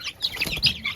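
Chickens and chicks cluck and cheep faintly on a farm, mixed with a brief flutter of wings, a busy, uneven patter of short calls.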